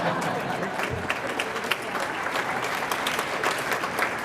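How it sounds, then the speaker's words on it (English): An audience at a 2013 South St. Paul Educational Foundation scholarship banquet breaks into applause, a dense, steady burst of many hands clapping that fills the room, with a voice faintly underneath. "go ahead, you can clap"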